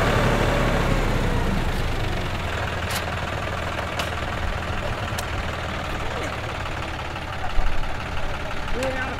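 A tractor engine idles steadily nearby with a low, continuous rumble and knocking throb throughout, with no break in the drone.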